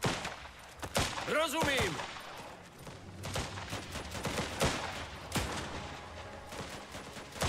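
Gunfire in the video game Last Train Home, scattered shots and short volleys cracking over a noisy battle background, with a whistling sweep early on and a brief spoken voice.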